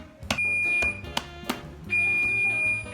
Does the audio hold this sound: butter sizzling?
no